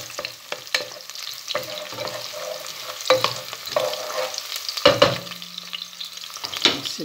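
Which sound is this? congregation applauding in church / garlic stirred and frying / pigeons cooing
garlic stirred and frying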